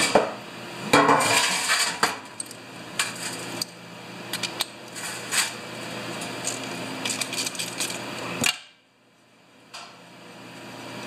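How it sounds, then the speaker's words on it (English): Metal parts tray taken out and handled during a pressure washer repair, with a run of clattering, clinking metallic knocks and rattles up close, then a sudden stop into near quiet with one last faint clink. "Guess we might as well get a tray out"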